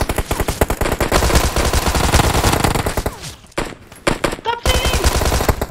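Uzi submachine gun fire in a shooting video game rattles in loud, rapid, close bursts, breaking off briefly near the middle before the rapid shots start again.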